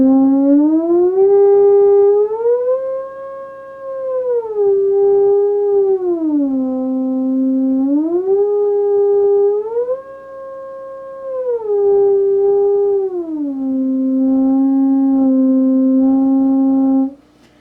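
A Theremini theremin sings a smooth, pure tone that glides between held pitches, stepping up and down through octave ear-training intervals, loud and sustained with no one speaking.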